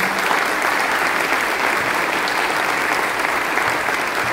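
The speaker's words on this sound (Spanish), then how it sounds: "para quienes pido un fuerte aplauso." Steady, loud audience applause at a tribute event honoring maestro Florentín Giménez, a dense, even wash of clapping that holds at full strength throughout.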